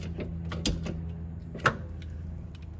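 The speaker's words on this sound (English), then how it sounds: "Torque this bitch down" Tightening of a 17 mm brake caliper bolt with a torque wrench on a 2018-2021 Subaru WRX, heard as a few soft mechanical clicks and creaks with one sharper snap near the end, close by over a low steady hum.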